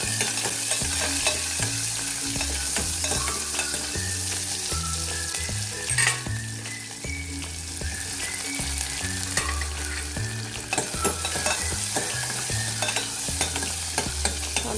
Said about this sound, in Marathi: तो पहिले कांदा घालून घेते.